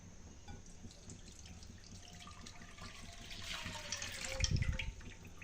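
Half a litre of milk is poured into a kadai pan on the stove, a soft liquid trickle that swells toward the end into a fuller splashing stream before easing off, fairly faint and close, with no voices.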